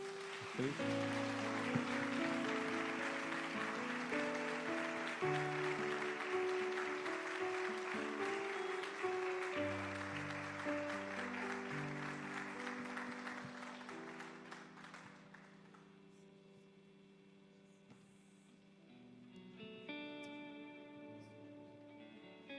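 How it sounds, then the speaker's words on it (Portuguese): A church congregation applauds during a worship service, steady crowd clapping over sustained organ or keyboard chords that fade out, leaving the music alone near the end. "Vamos aplaudir a Cristo."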